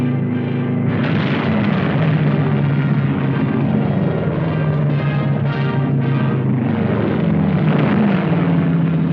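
Planes flown by Chinese pilots and crews under American volunteer instructors, a steady droning engine roar with low rumbling tones that swells and fades, loud and continuous for about nine seconds.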